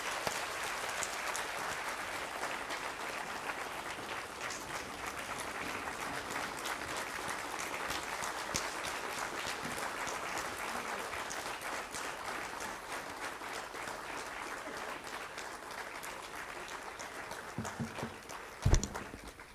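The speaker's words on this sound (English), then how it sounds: "let us applaud him once" Sustained audience applause at the close of a scientific session honouring Umesh Varshney, dense steady clapping from a large hall crowd for nearly twenty seconds, with a sharp louder clap or knock near the end.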